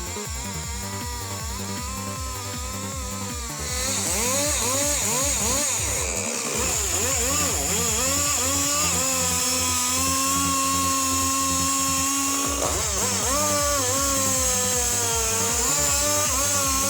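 Husqvarna 395 XP chainsaw slicing through a log, a loud buzzing two-stroke engine whose pitch rises as it revs into the cut and wavers under load, continuous and close with no talking.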